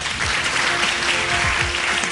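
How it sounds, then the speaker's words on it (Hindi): Applause from a studio audience welcoming Mufti Noor Rahmani as a guest on a morning show, continuous and fairly loud clapping across the brief stretch. "आप लोगों की अगेन बहुत सारी तालियों में वी आर वेलकमिंग मुफ्ती नूर रहमानी साहब"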